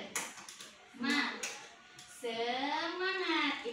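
Elementary school children clap out the rhythmic "tepuk semangat" chant in a classroom, short sharp claps interleaved with chanting voices, moderately loud and close.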